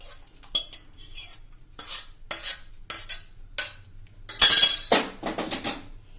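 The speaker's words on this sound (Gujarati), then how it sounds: "હવે આને આપણે એકદમ સરસ બધું મિક્સ કરી લેશું" A utensil stirs and scrapes through a pot of spicy seven-grain Gujarati khichdo, making repeated clinking metal strokes in uneven bursts, close and fairly loud, with one longer rough scrape near the end.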